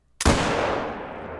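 A single Gandhare rifle shot fired with iron sights in the hunting game theHunter Call of the Wild, a sharp loud crack that rolls into a long, slowly fading echo.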